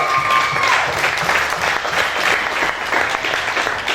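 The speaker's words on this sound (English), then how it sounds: "Let's give him a big round of applause," Applause from the crowd at a combat-sports fight press conference, a loud, dense, unbroken roll of many hands clapping, with a few voices faintly underneath.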